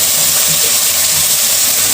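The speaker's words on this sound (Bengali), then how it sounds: "মশলা কষানোর জন্য একটু পানি দিয়ে দিলাম।" Water splashes into masala frying in a pan, a steady loud gushing hiss and steam roar that fills the whole moment without a break.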